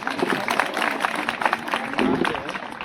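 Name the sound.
audience applause after a poetry performance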